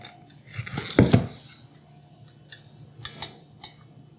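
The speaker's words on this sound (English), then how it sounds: "So I put a bowl under there." A bowl is set down under a Vevor flour sifter in a kitchen: a couple of close, sharp clinks and knocks, followed by a few faint ticking taps and a low background hum.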